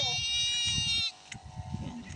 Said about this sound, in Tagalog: Ayan, may mga kambing.